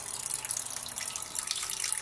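Hot water runs steadily through a grain bed and drains into a boil pot during a home beer brew day, a continuous close hissing trickle with no talk.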